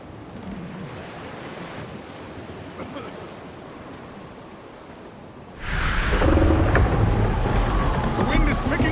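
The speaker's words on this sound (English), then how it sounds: "The wind is picking up fast! This wind is definitely not making things any easier." Strong gusting wind and crashing ocean surf at sea in Assassin's Creed Black Flag, a steady roar that surges much louder partway through, with occasional faint voices underneath.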